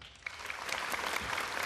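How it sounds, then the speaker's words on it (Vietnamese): An audience on a stage-show set claps for a performer, a steady wash of applause from a crowd that stays fairly even, heard from a slight distance and without any voices. "khán giả nên dành cho em thêm một tràng pháo tay nữa"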